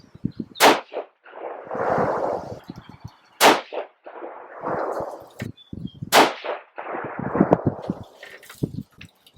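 Three loud, close rifle shots from a Savage 110 Tactical in 6.5 Creedmoor firing Sierra 130-grain Tipped GameKing hand-loads, each a sharp crack followed by a rolling outdoor echo, spaced a few seconds apart.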